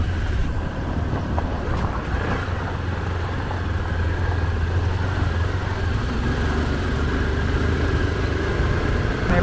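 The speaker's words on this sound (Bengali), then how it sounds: "আমাদের এখন নরেশ গাড়ি করে নিয়ে যাচ্ছে" A car climbing a hill road toward Parasnath hill in Giridih, Jharkhand, heard from inside as a steady, even engine rumble with road and wind noise throughout. No one speaks.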